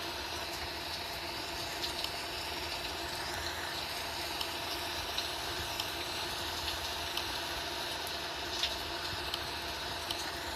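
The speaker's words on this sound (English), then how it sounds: "Let's start engine number 2." An AirAsia Airbus A320-200's number 2 engine starts in Real Flight Simulator, a steady droning engine hum with a constant whine throughout, moderately loud with no talk.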